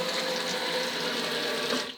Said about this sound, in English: So now I'm going to wash my pots.